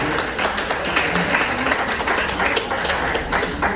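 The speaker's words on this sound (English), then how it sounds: "give her a round of applause" An audience at a 2022 gubernatorial forum in Palm Beach applauds, a dense, steady patter of many hands clapping at once that carries on throughout without a pause.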